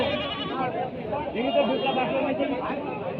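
Goats bleat at a crowded livestock market in Gopalpur, Natore, their calls half-buried under steady crowd chatter and nearby talking.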